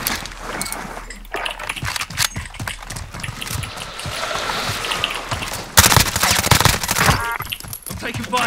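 Dense gunfire in Call of Duty Modern Warfare (2019): rapid automatic bursts and single shots crackle loudly throughout, with a sharp heavy blast partway through, while a player talks under the din.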